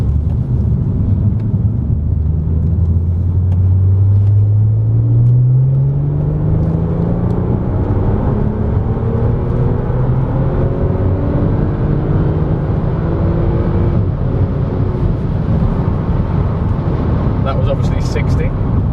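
Supercharged Audi S4 driving in sport mode, its engine note rising in a long sweeping climb through the gears, loud and close from inside the cabin with steady road rumble underneath.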